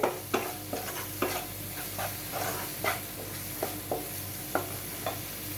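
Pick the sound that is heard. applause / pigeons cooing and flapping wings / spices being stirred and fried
spices being stirred and fried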